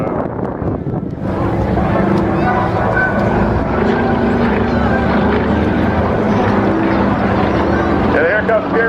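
At an air force base air show, an aircraft engine drones loudly and continuously overhead with a steady propeller rumble, while a commentator speaks over it on the public address.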